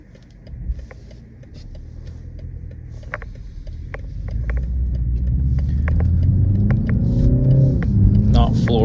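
A BMW G20 330i pulls away and gradually gains speed, its engine and road rumble rising steadily from quiet to a louder sustained drone inside the cabin, with scattered clicks and a person talking.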